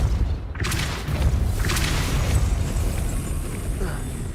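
A booming blast of the Depulso spell in a Hogwarts video game, a sudden burst followed by a sustained rumbling whoosh that fades slowly, loud and close with no talking.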